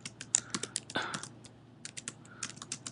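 Code being typed on a computer keyboard: close, quick clicking keystrokes in bursts, with a brief pause midway, and no voices.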